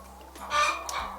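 Chickens on a poultry farm give a short burst of clucking, one fairly close squawking call rising and fading within a second over a low background hum.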